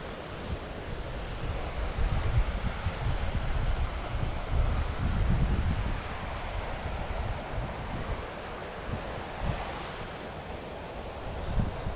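Strong wind sweeps across Lintrathen Reservoir in Scotland, roaring steadily with heavier gusts that swell and ease, close and loud against the microphone, with no voices heard.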